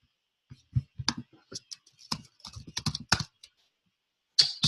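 Typing on a computer keyboard, bursts of quick close key clicks in an uneven rhythm, followed by a pause and a louder final burst.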